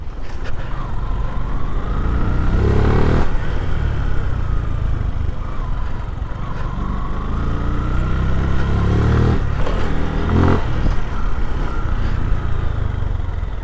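Suzuki Gixxer FI ABS 155cc motorcycle being ridden, a steady close engine hum with wind rush, rising and falling as the rider shifts and eases the throttle.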